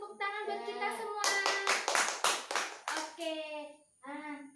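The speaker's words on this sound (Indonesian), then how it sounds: "Tepuk tangan buat kita semua." Schoolchildren in a sixth-grade class clap their hands together in a quick burst of rhythmic claps, loud and close, with a teacher's voice speaking before and after the applause.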